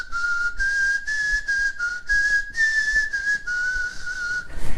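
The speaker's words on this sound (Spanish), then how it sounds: "Pongo la lengua de una forma distinta para producir el silbido" Steady close whistling made with an alternative tongue position, the pitch sliding up and down through a series of short phrases separated by brief breaks, with no talk.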